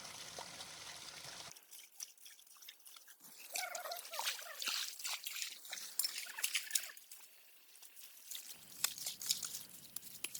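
Cool stream water drawn by a pump from a valley into a large hand-dug pond habitat, heard as a close, steady trickling and splashing flow with fluctuating intensity.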